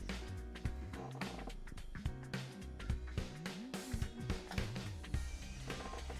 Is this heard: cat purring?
yes